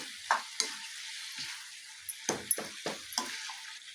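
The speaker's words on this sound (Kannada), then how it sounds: "ಟೊಮೊಟೊ ಹಾಕಿದ್ಮೇಲೆ ಚೆನ್ನಾಗಿ ಮಿಕ್ಸ್ ಮಾಡಿ ಟೊಮೊಟೊ ಎಲ್ಲ ಚೆನ್ನಾಗಿ ಸಾಫ್ಟಾಗಿ ಸಾಫ್ಟಾಗಿ ಬೆಂದ್ಕೋಬೇಕು" Tomatoes are stirred into a sizzling masala for Hyderabadi dum biryani, giving a steady fry with a run of sharp scraping spoon strokes against the pan, close and clear, with no talking.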